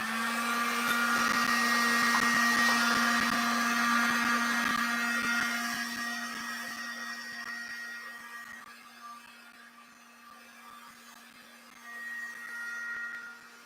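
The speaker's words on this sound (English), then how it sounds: "I'm going to give it a quick dry again." A heat tool or dryer blows steadily over a freshly painted abstract art journal page, a loud continuous whirring hum that fades somewhat partway through, then swells again near the end.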